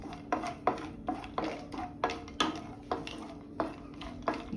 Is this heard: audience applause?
no